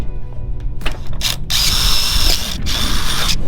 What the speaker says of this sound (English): Get the first one, pop your rivet in.